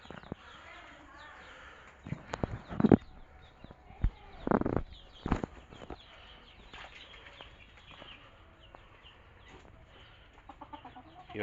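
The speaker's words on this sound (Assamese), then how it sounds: "লগতে থলুৱা দেশী মুৰ্গীৰ পোৱালিও আছে।" Young broiler and local desi chicken chicks peep softly in a cluster while bursts of rustling and handling noise come and go, with a voice speaking intermittently nearby.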